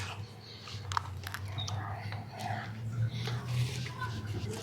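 Someone bites into a sandwich packed with crunchy vegetables, with soft crunches and chewing close to the mic while voices talk quietly over it.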